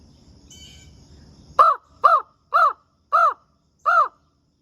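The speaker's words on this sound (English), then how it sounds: "So I can hear the crows off in the distance." A crow caws five times in a steady, evenly spaced series, loud and clear, after a low rumbling background fades out.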